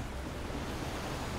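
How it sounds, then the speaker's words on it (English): A waterfall in the VR roller coaster game RollerCoaster Legends gives a steady, dense rushing roar of falling water, continuous and even throughout, with no speech. "We're just gonna go down a waterfall."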